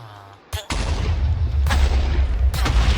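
Bomb detonations in a modded Minecraft game, a sharp crack followed by heavy booming blasts and rumbling explosions in quick succession, loud and close.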